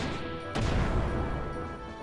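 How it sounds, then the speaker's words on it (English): A sharp ringing clash sound effect from the video game Xenogears, like knives struck against a ceramic plate or glass, hits once suddenly and leaves a bright metallic ring decaying over about a second and a half. "Sounds like they amplified someone hitting 2 knives against a plate, like a ceramic plate"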